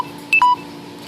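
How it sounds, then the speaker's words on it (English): Phone low-battery warning: two short electronic beeps in quick succession, a higher tone then a lower one, loud and close over a faint steady hum in a fish room. "There's my phone telling me I'm about to die."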